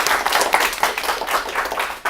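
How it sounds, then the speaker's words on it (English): Applause from a lecture audience after a lunchtime talk on data protection, a short burst of many hands clapping at moderate loudness, fairly dense and even, with a sudden swell near the end. "just have a round of applause for Fraser"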